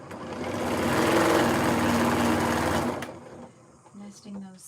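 A sewing machine stitches through fabric seams in a loud, steady mechanical whir for about three seconds, then stops, and a few brief quieter sounds follow.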